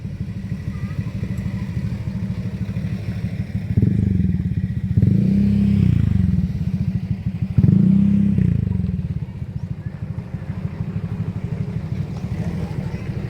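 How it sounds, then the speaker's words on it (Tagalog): A motorcycle engine at a campsite on a fruit farm in Bamban, Tarlac, a low steady drone that swells twice as the bike nears, then fades back to a distant rumble. "Ay yung motor oh"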